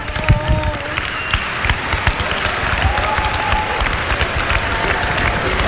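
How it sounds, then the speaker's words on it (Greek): Warm applause from a television studio audience at a Greek Eurovision 2005 selection show, steady clapping filling the space throughout with crowd murmur and a few voices mixed in. "Η μαμά της Έλενας, η κυρία Ευρωσύνη, ένα χειροκρότημα."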